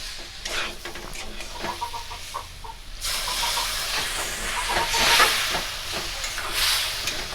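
Semolina and vegetables cook in a pan for jhal suji, with light stirring and scraping at first, then a louder hissing sizzle as water is poured in and steams, no talk.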